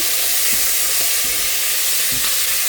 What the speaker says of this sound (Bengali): এখানে হচ্ছে আমি চিংড়ি মাছটা ভাইজা নিতেছি